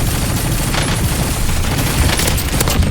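Continuous dense gunfire and bursts of shots from Call of Duty Warzone fill the whole stretch, loud and steady with scattered sharper cracks, close up and without pauses.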